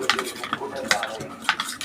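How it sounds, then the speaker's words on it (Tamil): A spoon stirs milk and milk powder together in a vessel, making quick scraping clinks and swishes in an uneven rhythm, close up and brief. "இந்த பால் கூட மில்க் பவுடர் சேர்த்துக்கலாம்."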